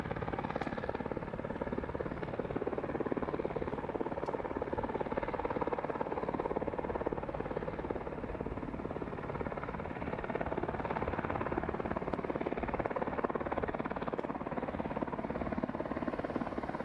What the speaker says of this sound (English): That's a different version of the W3 in Korea. That's a firefighting version.